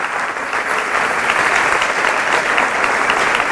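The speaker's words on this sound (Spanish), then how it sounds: "Fuerte el aplauso a nuestra Madre Santa" A church congregation bursts into steady, dense applause in honour of the Virgin Mary. The clapping stays full and close throughout, with no talking.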